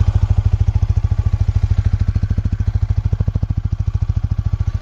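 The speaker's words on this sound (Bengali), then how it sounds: "বাইকের নয়েজটা শুনে নাও একবার।" A Yamaha MT-15 motorcycle idling in neutral, close and loud, with a fast, even single-cylinder putter that stays steady throughout, no voices.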